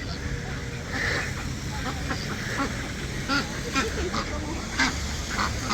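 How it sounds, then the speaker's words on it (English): Ducks quack repeatedly in a park in Monterrey, Mexico, moderately close calls scattered over steady outdoor background noise, with some faint voices around. "I wonder if these ducks are like the United States ducks that attack on sight."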